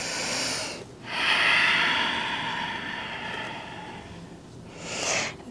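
Slow, audible breaths drawn in and out through the nose during a yoga stretch, close and airy, with a long swelling inhale and a softer exhale around quiet pauses.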